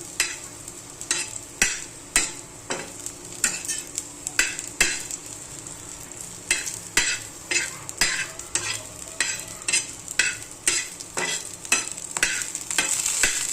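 A spoon scrapes and stirs a dry Bombay duck gravy masala roasting in a pan, in repeated rhythmic strokes over a soft, continuous sizzle, close and fairly quiet.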